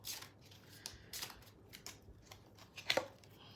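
Quiet, close papery riffling and flicking of a deck of cards being shuffled, in a few quick bursts.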